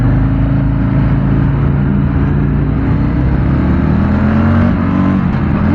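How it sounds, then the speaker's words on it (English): A Harley-Davidson Fat Boy motorcycle engine held at high revs against the rev limiter while riding, a loud, dense, steady rumbling drone with constant wind noise. "I hit the rev limiter on by mistake."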